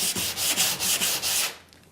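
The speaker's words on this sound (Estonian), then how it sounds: "Me lihvime maha, aga siis ei tee puitu liiga libedaks." Sandpaper rubs back and forth over a wooden window frame, stripping leftover paint in about five steady, close strokes of harsh scraping before it stops.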